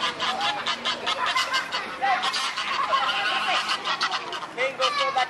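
Ducks calling in a duck house at a pet zoo, repeated nasal quacks over a busy background of children's voices and chatter.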